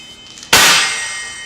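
A single bright bell ding rings out as a sound effect, one sharp loud strike that rings on and slowly fades.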